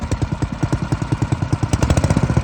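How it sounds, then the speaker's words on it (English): A Kifco B140G water pump's small engine runs close by at a slow idle, thumping in a fast, even rhythm with a slight clatter that grows a little louder toward the end. "So we're going to turn the pump on. Should fire right up"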